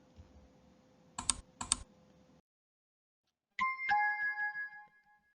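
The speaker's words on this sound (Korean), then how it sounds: "클릭." Two sharp clicks of a computer mouse during a CBT practice exam, quick and close together, followed after a pause by a bright chime-like tone that rings and fades.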